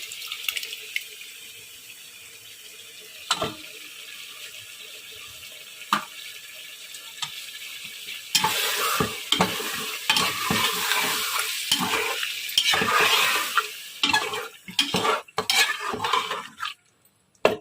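Haleem masala with about half a cup of yogurt being fried and stirred in a pot; quiet at first with a few clinks, then a dense stretch of sizzling and scraping strokes with no voices.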